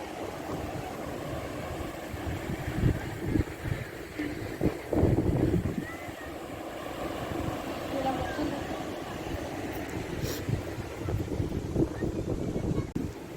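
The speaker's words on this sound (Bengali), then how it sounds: "এখানে খুবই সুন্দর বাতাস" Wind buffets the microphone in uneven gusts on Marine Drive road at Cox's Bazar, with faint voices underneath at times.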